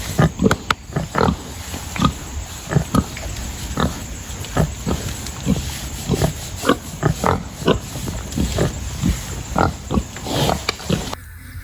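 Farm pigs grunt close by in a steady stream of short, repeated snorts and oinks, some louder than others, with no talking.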